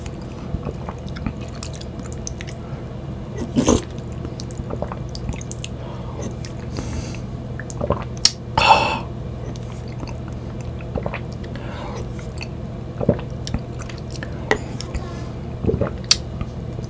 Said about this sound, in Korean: 제가 먹어보겠습니다.